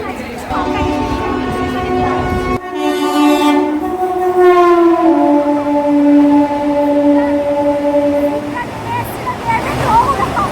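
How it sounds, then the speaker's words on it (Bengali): At a busy railway platform near Belur station, a train sounds a long, wavering horn while rolling past, loud and close. The steady rumble continues for about ten seconds, with voices in the background. "সব ট্রেন এসে যাচ্ছে, শুধু আমাদের ট্রেন আসছে না।"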